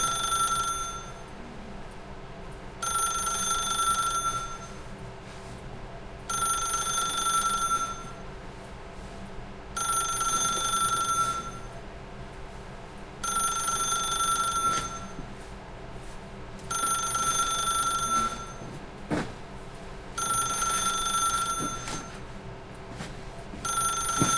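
A telephone rings in the video game The Stanley Parable, in about seven evenly spaced bursts of bright trilling bell tone separated by short gaps, loud and clear with no talk over it.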